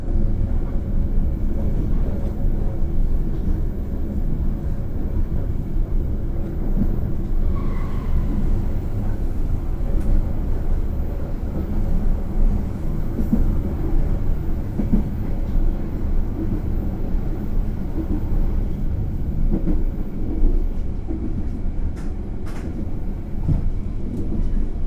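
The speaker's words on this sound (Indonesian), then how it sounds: "barusan kita berpapasan dengan kereta api Kertajaya dari stasiun Pasar Senen dengan tujuan akhir stasiun Surabaya Pasar Turi" Passenger train carriage interior rumble while passing the Kertajaya train after leaving Jatibarang station, a steady loud low roar with rattling throughout, no talk.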